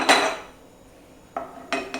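Fried cashews are scooped out of a ghee-filled kadai for pumpkin halwa: a sharp metal scrape and clatter, then quiet, then two more quick ladle knocks against the pan.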